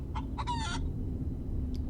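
A chicken in a video game gives a few quick clucks and a short squawk, close and clear, with one faint extra cluck after a pause.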